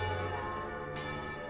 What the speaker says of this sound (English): the Duke is awakened in his tower cell by the ringing of all the bells in London.